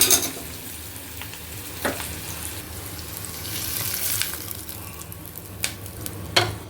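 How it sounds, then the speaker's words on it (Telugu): Hot spice tempering tipped into buttermilk with the stove off, a soft sizzling hiss with a few sharp crackles and splashes, fairly quiet and close, with no talking. "ఇప్పుడు ఈ తాలింపుని మనం కలిపి ఉంచుకున్న ఈ మజ్జిగలో వేద్దామండి స్టవ్ ఆపేసి"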